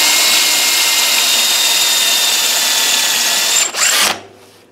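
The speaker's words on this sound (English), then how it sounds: "I can find it with the drill press and finish it quick." A loud, steady high-pitched drill press whine runs for about four seconds while drilling metal, then winds down abruptly into quiet.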